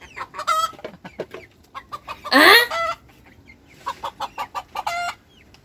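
Chickens on a farm cluck in a quick series of loud, close calls, with one sharp squawk in the middle and a second burst of clucking after a short pause.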